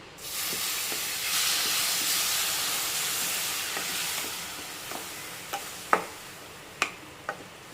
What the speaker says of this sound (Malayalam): ഇതിലേക്ക് നമ്മൾ തയ്യാറാക്കി വെച്ചിരിക്കുന്ന ശർക്കരപ്പാനി കുറേശ്ശെ ഒഴിച്ചു കൊടുക്കാം